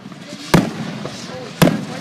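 Canada Day fireworks over McAdam, two sharp, loud bursts about a second apart, each followed by a rumbling tail, with faint crowd noise and voices between them.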